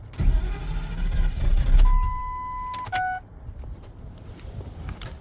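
A V10 truck engine with every fuel injector unplugged, running only on gas vapors, rumbles and sputters loudly for about two seconds. Steady electronic dash beeps follow, then the sound fades to a quiet idle.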